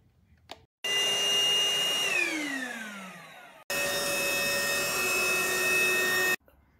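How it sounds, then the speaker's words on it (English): A ROOMIE TEC SlimVac cordless upright vacuum cleaner whirs loudly with a steady motor whine that sags in pitch as it winds down, cuts out briefly, then starts up again at full speed before stopping. "Alright, here's the vacuum."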